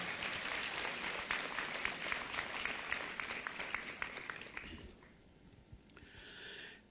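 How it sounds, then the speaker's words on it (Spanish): A crowd at an international yoga and Vedic culture workshop at Dev Sanskriti University in Haridwar claps, a dense sustained applause that thins out and fades near the end. "Otra vez un aplauso."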